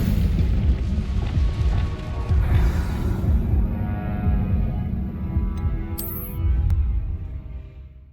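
An Incendio fire spell blasts in a Harry Potter video game, a loud deep booming roar with rumbling swells that dies down toward the end among brief magical sparkle effects.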